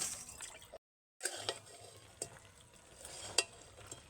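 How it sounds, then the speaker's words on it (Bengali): Chilli Maggi noodles are stirred in a pan, making soft, close scraping and faint bubbling sizzle. A brief dead-silent gap is followed by a few light utensil taps. "ম্যাগিটাকে একটুখানি নেড়ে নিচ্ছি"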